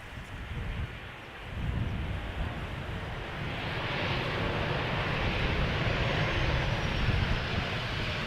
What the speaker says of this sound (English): Sky Express up next, arriving from Konya, flight 744, 737-800